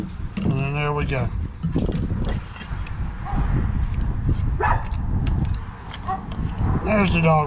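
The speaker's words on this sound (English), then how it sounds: "There's the dog barking." A dog barks a few times in the background, partly masked by someone talking nearby, with some metallic clatter and handling noise from a NAVAC swaging tool at work.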